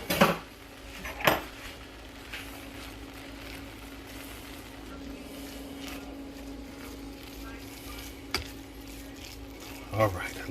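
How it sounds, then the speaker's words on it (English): Butter is stirred into food in a pan, with a few sharp utensil clanks against the pan over a low steady background, close by, while a voice talks at times. "Cut our butter. And we're just gonna stir that in."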